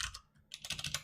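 Rapid keystrokes on a computer keyboard, close and crisp, come as two short bursts of clicks separated by a brief pause, with no talking.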